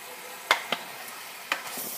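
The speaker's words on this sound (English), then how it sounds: "So now you're just going to give everything a good stir." Pasta sauce with spices stirred in a pot, a few quiet scraping strokes of the spoon spaced about a second apart, with a faint simmering hiss underneath.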